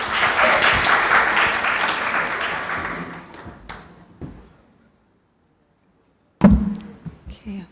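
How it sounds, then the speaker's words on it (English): Audience applause for a moderator at a policy forum, loud at first and fading out over about four seconds, followed by silence, then a sharp knock and a few shuffling handling sounds. "A round of applause for our moderator today."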